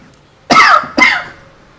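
Two sharp, loud coughs close by, about half a second apart, from someone with a lingering cough after weeks of illness, with near silence around them.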